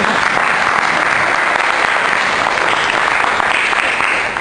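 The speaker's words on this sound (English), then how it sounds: "Please keep that clapping going on" Sustained, loud applause from an audience welcoming a main speaker, thick continuous clapping with no break.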